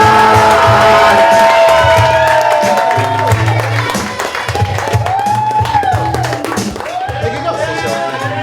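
A crowd claps and cheers at a birthday celebration for a dog named D Hodge, a loud, dense wash of applause and voices that fills the whole stretch, with a steady hum underneath.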